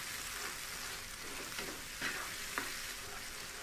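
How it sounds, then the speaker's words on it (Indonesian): Chili, garlic, shallot, candlenut and lime leaves sautéing in a pan, a constant close hiss of frying with a few faint stirring clicks. "Terus kita tumis sampai harum dan matang"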